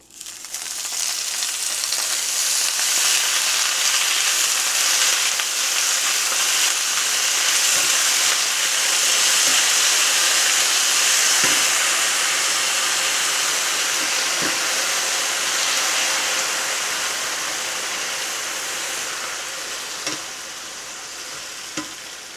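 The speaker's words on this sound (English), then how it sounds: "next I'm going to cook down the spinach" Spinach cooking down in a pan, a loud continuous hiss of sizzling with a few faint clinks of stirring, steady throughout with no talk.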